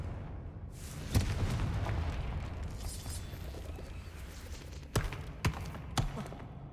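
Fire-blast spell Confringo exploding in Hogwarts Legacy on PS5: a single sharp blast early on, then three quick punchy bursts near the end, all over a steady rumbling game background.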